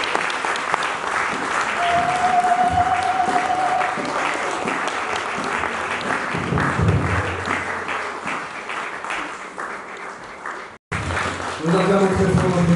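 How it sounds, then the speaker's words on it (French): A church congregation applauds loudly and steadily for God during a worship service, a dense wash of clapping broken by one brief drop, with voices rising through it near the end. "Nous acclamons très fort notre Dieu"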